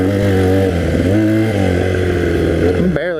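A 1982 Honda 250cc flat track motorcycle revving close up, its engine tone rising and dipping with throttle changes, loud and steady before cutting off abruptly at the end.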